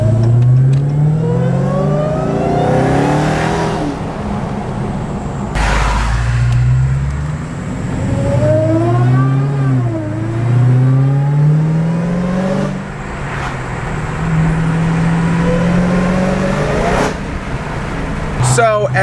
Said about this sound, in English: You can really hear that supercharger scream a lot more, which is phenomenal